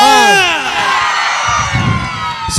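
Crowd at a live comedy show in Gajendragad erupts in loud cheering and whoops, sustained throughout with a few shouted voices rising near the end.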